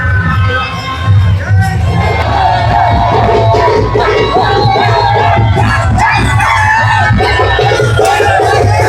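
Dense crowd cheering and shouting at the Raibadevi palanquin procession in Rave village, a loud continuous roar of many voices with whoops and yells rising throughout.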